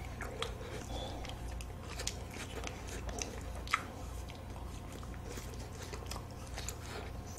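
Melon-flavored ice cream being bitten and chewed, soft crunchy bites and wet squishy mastication close to the mic, steady throughout with a low hum in the background.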